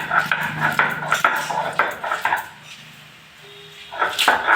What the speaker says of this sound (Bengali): কাঁকড়াগুলো ভালো করে ধুয়ে নিয়েছি, আমি এবার শিলে বেটে নেব।